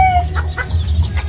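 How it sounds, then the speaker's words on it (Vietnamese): A black-and-white spotted domestic duck kept for five years calls close by, giving a quick series of short, loud, clucking quacks with no talk. "Nè mấy bạn thấy con vịt của Út nó ngộ không?"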